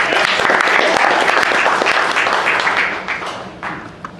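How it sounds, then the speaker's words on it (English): Applause from an audience at a public safety hackathon, a dense wash of many hands clapping steadily, then thinning and fading out toward the end, with some murmured voices underneath. "give a round of applause for Jeff here, please."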